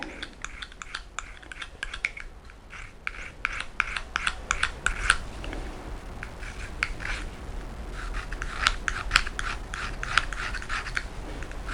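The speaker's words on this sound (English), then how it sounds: "So I can sharpen this with a Speedy Sharp." A pocket knife is sharpened with a Speedy Sharp, close up: quick rasping scrapes come in rapid bursts of strokes, with short pauses between them.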